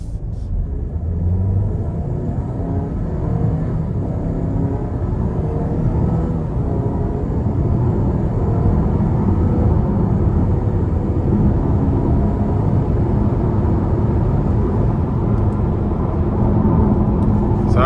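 A 2026 Buick Envision ST AWD SUV with a 2-liter turbo and 9-speed transmission accelerates, its engine a steady close low rumble rising gently in pitch over road noise, heard from inside the cabin.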